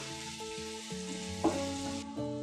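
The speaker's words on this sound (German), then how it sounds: "Möhren brauchen lange Garzeit. Die tun wir zuerst rein. Eine Weile gut braten." Carrots fry in a pan with five-spice, a soft continuous sizzle with faint stirring clinks and a brief louder scrape midway, heard close and alone without talk.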